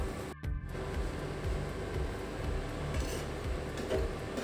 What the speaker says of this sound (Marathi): काय करते, प्लेटमध्ये काढून घेते.